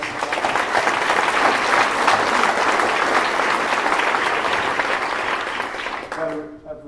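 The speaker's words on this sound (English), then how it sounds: "I think he deserves a round of applause" A conference audience at a small-living event's closing session applauds its organizer, a loud, full round of clapping that holds steady before tapering off as a voice begins.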